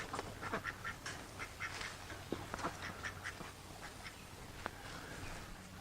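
A small backyard flock of ducks, four hens and a drake, quacks in a garden, with rapid, overlapping calls coming in irregular bursts over faint outdoor background noise.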